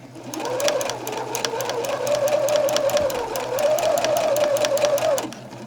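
A sewing machine runs a French seam in one continuous burst of rapid, even stitching lasting several seconds, close and clear with no talking.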